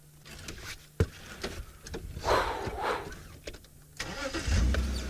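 Safari vehicle engine cranks and catches, then rumbles and revs as it drives off over rough ground, with knocks and rattles from the cabin; fairly close, no talk.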